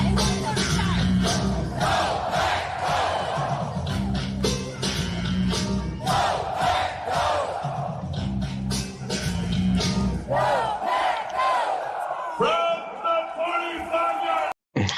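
A stadium crowd at a Lions versus Packers football game roars and chants in loud rhythmic waves, cheering rising and falling throughout before cutting off abruptly at the end.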